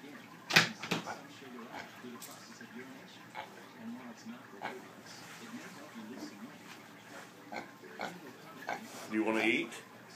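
A pig wakes from a nap on a couch and grunts for food, giving soft scattered oinks and snorts up close, quiet and intermittent, with a person talking over them.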